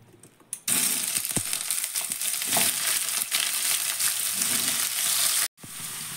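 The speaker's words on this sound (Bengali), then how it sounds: "ফুলকপিটা ভেজে নেব।" Cauliflower pieces dropped into hot white cooking oil, setting off a loud, sudden, continuous sizzle with crackling spatter and a few stirring scrapes before it briefly cuts out.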